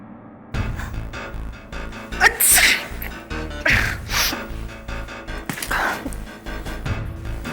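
Several loud, close sneezes burst out one after another in a quick series, each a sharp explosive rush of breath, with no talking between them.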